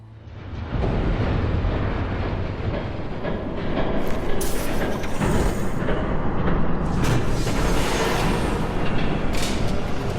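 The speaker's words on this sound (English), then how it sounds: "There's a train coming." A video game train rumbles past loudly and continuously, with a deep steady roar and rattling hiss that swells slightly midway.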